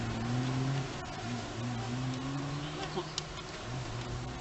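Honeybees buzz up close while being placed into a hive box, a wavering, droning hum that stays steady throughout with a few small knocks.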